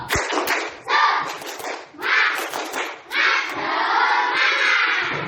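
A classroom group playing a rhythmic clapping game, with claps mixed into loud, energetic children's chanting that comes in short phrases and then a sustained shout.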